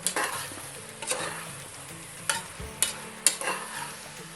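A spoon stirs chili powder into a mixed vegetable gravy curry in a pan, with steady sizzling and several sharp clinks of metal against the pan spaced through the stirring.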